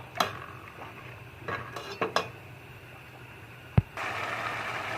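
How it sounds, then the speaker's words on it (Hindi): Spice masala for Lahori chana is roasted with milk in a pan: a spoon scrapes and clinks against the metal in a few irregular strokes, one sharp knock, then a steady sizzle rises toward the end. "अब हम दोबारा से इस मसाले को भूनेंगे ताकि दूध भी इसमें खुश्क हो जाए"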